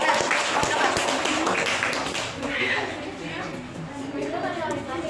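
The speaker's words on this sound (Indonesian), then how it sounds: "Tepuk tangan buat Bapak Ira." Students in a classroom clap for Bapak Ira, a brief burst of applause that loosens into scattered claps and overlapping chatter.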